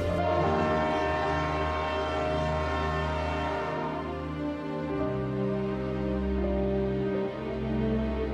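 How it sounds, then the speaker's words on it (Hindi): A train pulls into a station, its horn sounding in long sustained blasts over the low rumble and rolling of the rail cars, loud and close, with no voices. "ट्रेन आ गई"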